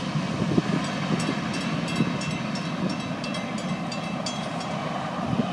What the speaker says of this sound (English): Nice train, nice.